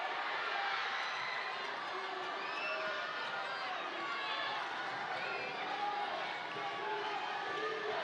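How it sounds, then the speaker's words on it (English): A basketball crowd roars steadily in an arena during a FIBA Melanesian Cup game between the Solomon Islands and Papua New Guinea, a dense wash of cheering with a commentator talking over it. "you can hear this crowd really starting to get rolling here"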